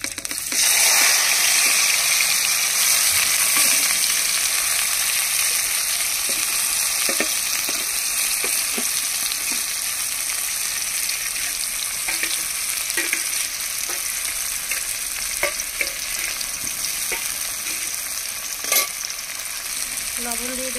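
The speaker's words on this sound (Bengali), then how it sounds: "তেলের মধ্যে দিয়ে দেবো পেঁয়াজ কুচি, টমেটো কুচি, লঙ্কা বাটা, জিরা আর গরম মশলা বাটা" Onion, tomato, chilli paste, cumin, garam masala paste and ginger-garlic paste sautéing together in hot oil, a loud steady sizzle with scattered stirring clicks and scrapes throughout, no voices.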